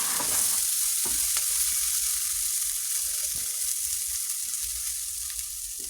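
Potatoes and bitter gourd frying in a pan give a steady, close sizzle, broken by a few soft scrapes as a spoon stirs them, with no voices.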